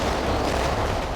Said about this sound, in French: En quelques secondes, 22 kilos de feux d'artifice ont semé le chaos dans l'entrepôt de 30 mètres de haut et 36 mètres de large.